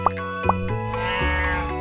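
Cartoonish cow moos from the Harvest Moon Cow Replacement mod for Stardew Valley, a video game, with two short high calls followed by a longer sustained tonal lowing over a steady musical background.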